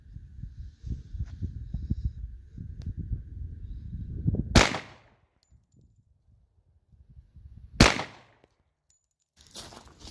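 Ruger SR1911 Lightweight Commander .45 ACP pistol firing 230 grain ball: two sharp, loud single shots several seconds apart over a rumbling outdoor background, with a third blast starting at the very end.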